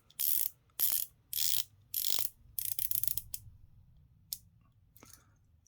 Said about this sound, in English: The way it sounds that it's loose, but actually the bezel is not loose.